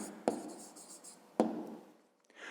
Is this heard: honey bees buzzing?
no